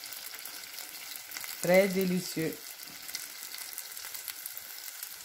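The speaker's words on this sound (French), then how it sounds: "on retourne de chaque côté les beignets pour permettre la friture de chaque côté" Savory onion and spice beignets fry in hot oil with a soft, steady sizzle, briefly covered by a short spoken phrase near the middle.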